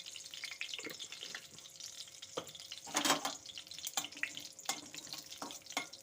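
Whole cumin, bay leaves and dry red chilies crackle in hot mustard oil, a faint close sizzle broken by sporadic pops and a louder spitting burst midway, with no talking.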